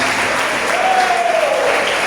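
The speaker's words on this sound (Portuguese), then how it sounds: "desocupa as suas mãos e dá o melhor nas suas palmas" A church congregation applauds during a service, a short burst of loud, close clapping from many hands, with a brief voice rising faintly under it.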